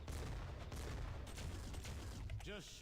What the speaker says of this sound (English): I'm going to go ahead and spend all 5 of my grenades.